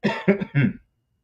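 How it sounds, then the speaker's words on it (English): Three quick, close coughs in a row, clearing the throat, then silence. "now I think I do need to cough just to clear my throat."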